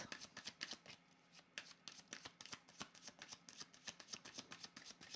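Playing cards being shuffled during a card reading, a quick run of crisp riffling flicks and soft slaps repeating in bursts, close and fairly quiet, with no talking.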